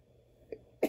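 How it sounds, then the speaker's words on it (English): A single person sneezes, a short nasal intake followed by a sharp, loud burst near the end, close to the listener. "sorry, I gotta sneeze"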